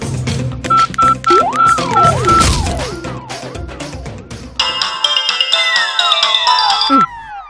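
A phone ringtone plays a bright electronic melody with repeating sliding tones, then shifts into a denser chiming pattern before cutting off.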